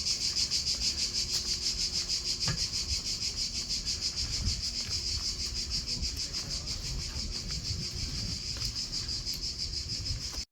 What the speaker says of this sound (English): I hear crickets in that tree over there.